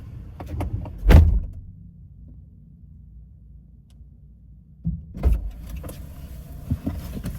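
A car door thumps shut close by, then after a quiet stretch a second clunk and some rattling handling follow, with faint clicks at the end.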